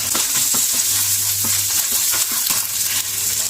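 Chana dal, urad dal and dried red chillies roast in a pan for chutney, giving a steady close crackle and sizzle with small grainy rattles and the clink of a spoon scraping the pan.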